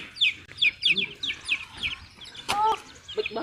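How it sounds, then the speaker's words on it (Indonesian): A chicken clucks in a quick run of sharp, close calls, then gives a louder squawk near the end, with faint voices in the background. "Itu ayamnya bos."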